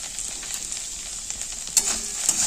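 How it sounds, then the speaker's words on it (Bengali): Okra and potatoes sprinkled with turmeric fry in a pan with a steady, fairly soft sizzle. A few light stirring clicks come in toward the end, close by, with no talking. "এরমভাবে ভাজতে থাকবো"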